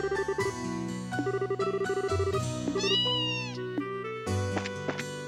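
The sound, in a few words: cat meowing in the video game Trails in the Sky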